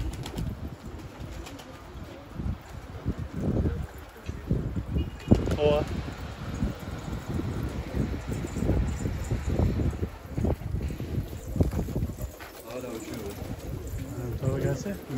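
A flock of about two hundred Mardin pigeons on a rooftop flaps and coos around the listener, with wind and voices talking over the birds throughout.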